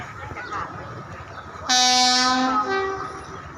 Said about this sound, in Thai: ระวังรถไฟนะครับ